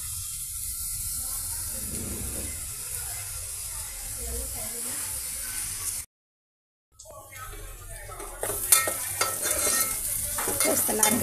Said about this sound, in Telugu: ఇక ఆయిల్తో ఈ విధంగా మన పెద్ద ఉల్లిపాయ పీసెస్ ఫ్రై అవుతున్నాయండి